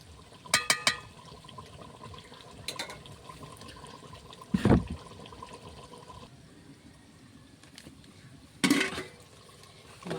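Boiled tomato and coriander leaves being poured into a pot of mutton curry, with a few short liquid splashes and pours standing out over a low background hiss, no talking.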